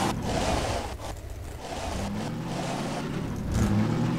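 A car driving in the Garry's Mod video game produces a moderate engine hum with rises and dips as it accelerates and slows, plus occasional thumps, heard alone without talk.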